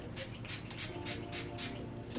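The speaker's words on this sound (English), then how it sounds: "Couple sprays." Four or five quick bursts of Urban Decay All Nighter setting spray hiss onto a makeup brush in a steady rhythm, fairly quiet and close.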